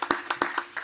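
A few separate hand claps at a cocktail industry debate symposium, five or six sharp, evenly spaced slaps in under a second, fairly close and moderately loud, with no talking.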